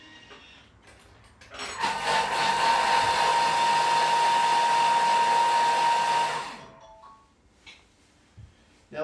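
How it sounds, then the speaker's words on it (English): A blender whirs loudly and steadily for about five seconds while mixing gozleme dough ingredients, starting abruptly and cutting off, with quiet room sound before and after. "So we're just going to blend all this together for 4 seconds."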